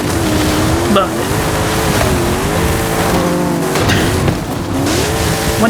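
In Forza Horizon 5, a race car engine roars loud and close on a custom map, its pitch rising and falling through gear changes, with tire squeal and a voice talking underneath.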